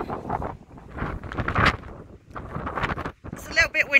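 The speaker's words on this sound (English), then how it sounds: "it's a little bit windy" Strong gusts buffet a greenhouse on a farm during stormy weather, rumbling microphone wind noise surging and easing around a person speaking close by.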